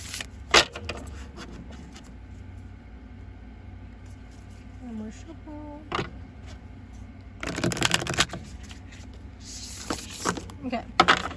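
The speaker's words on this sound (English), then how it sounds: "One more shuffle." Tarot cards being shuffled in a couple of quick riffling bursts, with soft handling clicks and a few brief voices in between.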